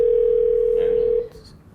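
A telephone call placed from a phone, giving a steady dial or ringback tone that holds loud for about a second before cutting off, leaving faint room noise.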